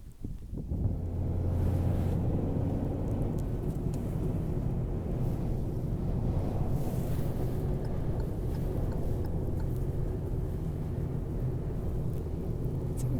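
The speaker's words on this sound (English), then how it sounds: "Incredibly windy." Strong wind sweeps across a volcanic landscape on Tenerife, a continuous loud roar buffeting the microphone with deep rumbling gusts throughout.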